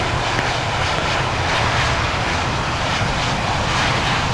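F-16 fighter jets fly past at low altitude in a loud, continuous, steady jet roar that fills the whole stretch.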